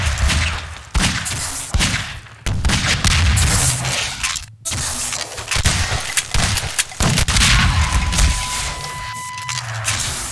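Rapid gunfire and rocket blasts from a Half-Life 2 Deathmatch competitive match, loud dense bursts with sharp cutoffs and brief gaps, no speech.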